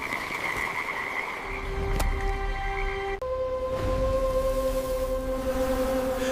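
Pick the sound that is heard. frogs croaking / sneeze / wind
frogs croaking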